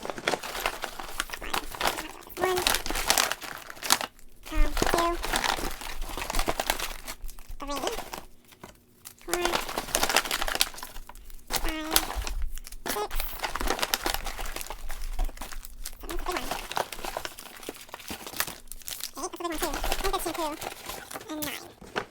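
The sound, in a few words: foil sample packets crinkling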